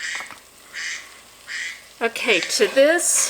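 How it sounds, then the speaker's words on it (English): Three short duck-like quacking notification tones from a phone chime in a kitchen, followed by a person talking over a louder, rising quack-like burst near the end. "that's my phone quacking at me"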